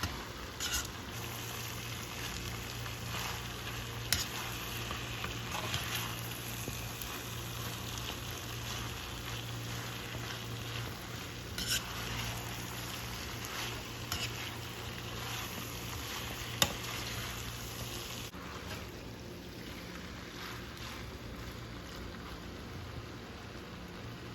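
Chicken pasta with vegetables sizzles in a pan while being mixed, a steady soft frying hiss throughout with occasional faint clinks of a utensil, fairly quiet and close, with no talking.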